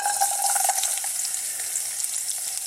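Sliced garlic fries loudly in sesame oil in a pan, a dense, bright, continuous crackling sizzle heard close up with no voices.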